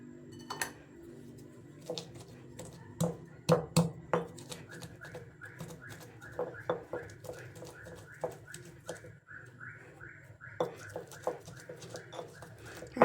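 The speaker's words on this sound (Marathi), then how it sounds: "डाळ याच्यातच या उखळीमध्ये वाटणार आहे थोडी थोडी डाळ घ्यायची" Dal pounded in a stone mortar, a series of sharp knocking thuds in an uneven rhythm, some in quick clusters, heard close with faint background noise.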